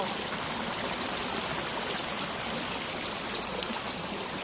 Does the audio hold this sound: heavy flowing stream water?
yes